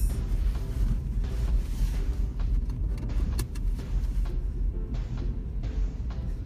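Large snowplow passing on a snowy road in Hokkaido, a loud continuous engine and vehicle rumble with scraping and rattling bursts, swelling then easing as it goes by.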